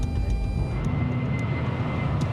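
Airliner climbing after takeoff, a dense steady roar of engine and airflow with a deep rumble, heard continuously and fairly loud throughout.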